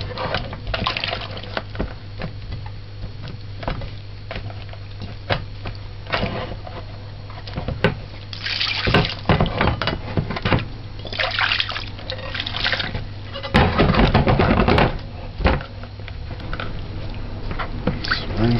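Oranges are rinsed under a running kitchen tap for homemade juice, a steady stream of water with splashing and trickling that swells louder at moments, while a person speaks over it.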